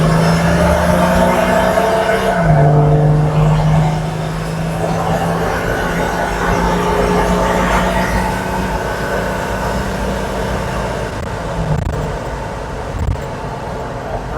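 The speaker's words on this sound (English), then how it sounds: "Wheel spins." A Nissan Patrol M57 grinds up a steep hill climb with its wheels spinning. A loud, steady engine roar holds throughout, with a strained drone that shifts pitch and some scrabbling noise.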